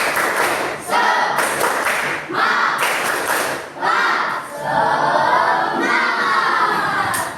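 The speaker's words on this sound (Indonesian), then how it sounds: "ayo kita tepuk semangat lagi. Tepuk semangat." Schoolchildren in a classroom chant and clap a rhythmic group cheer together, loud and close, with bursts of shouting voices and hand claps rising and falling in several short rounds.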